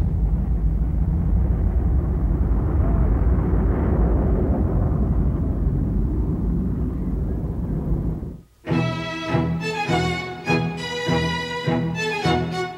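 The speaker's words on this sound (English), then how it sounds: "As the Dash 80 takes off for its first flight, the hopes of Boeing go with it." Boeing Dash 80 jet airliner on its first flight takeoff, a loud broad rushing engine roar that holds steady, then cuts abruptly into orchestral music.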